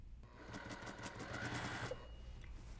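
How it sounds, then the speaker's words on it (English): A sewing machine stitches a quarter-inch seam on a Christmas quilt using a quarter-inch foot, a fast, quiet, continuous mechanical whir of needle strokes, faint and close. "We're gonna go to the sewing machine, stitch a 1/4-inch seam, and then we're gonna stitch it closed."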